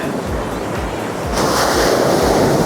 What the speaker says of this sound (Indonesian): Wow, ombaknya keren banget.